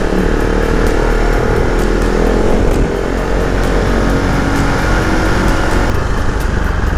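A Husqvarna Vitpilen 701 motorcycle with a 693 cc single-cylinder engine, restricted to 47 hp for an A2 licence, drones loudly and steadily while being ridden, with constant engine roar and wind rush throughout.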